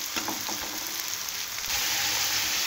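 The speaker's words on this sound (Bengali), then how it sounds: "আমার মাছের তেল ভাজা হয়ে যাচ্ছে" Fish fries in oil in a pan, giving a dense, continuous close-up sizzle that swells slightly toward the end, with no voices.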